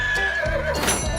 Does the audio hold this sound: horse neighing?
yes